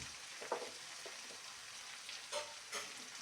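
Mixed vegetables deep-frying in a pan for vegetable pulao, a faint, soft sizzle with a few brief stirring scrapes, no talk.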